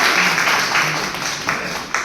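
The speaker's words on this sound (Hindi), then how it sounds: "तालियां बजा दीजिए।" An audience at a public speech bursts into loud, steady clapping that continues throughout.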